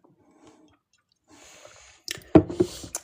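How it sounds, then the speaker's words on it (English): Someone drinks water close to the microphone: after near silence and a soft rustle come a few wet gulps and swallows with a slight liquid squish. "Let me drink some water."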